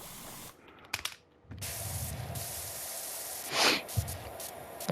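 A pressure washer sprays in PowerWash Simulator 2, bursts of loud hissing water broken by short pauses, with a brief breathy noise partway through.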